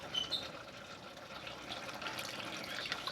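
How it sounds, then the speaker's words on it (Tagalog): Water is poured into a pot of chicken kaldereta, producing a steady, moderately loud splashing pour that runs for a few seconds with slight fluctuations. "Lagyan natin ng kaunting tubig."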